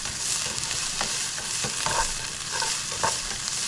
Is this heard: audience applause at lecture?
no